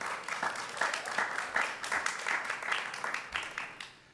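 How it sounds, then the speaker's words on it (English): An audience gives a round of applause, a steady patter of many hands clapping for a few seconds before tapering off, moderately distant and fairly quiet. "I would like to start with just a round of applause for you being here and taking this step."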